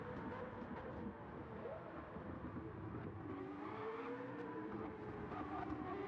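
McLaren GT3 race car engine heard onboard in a sim racing game at the 24 Hours of Spa, a steady droning growl with gear changes shifting its pitch, low in level throughout.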